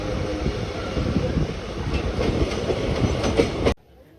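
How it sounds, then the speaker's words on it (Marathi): Passenger train pulling away from Palghar station toward Boisar, with steady rumbling wheel noise and rhythmic clatter on the rails that stays loud and close throughout, then cuts off abruptly near the end. "लगेचच ट्रेन इथून निघाली आहे"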